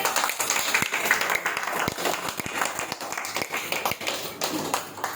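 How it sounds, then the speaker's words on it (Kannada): An audience claps loudly and steadily to welcome a child's parents at a gathering, dense overlapping hand claps running throughout with some sharper individual claps standing out. "ಅಪ್ಪ ಅಮ್ಮನಿಗೋಸ್ಕರ ಜೋರಾಗಿ ಚಪ್ಪಾಳೆ."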